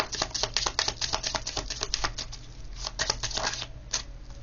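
Tarot cards are shuffled and drawn in a quick, crisp run of riffling snaps and light slaps, close and fairly quiet, with a low hum underneath.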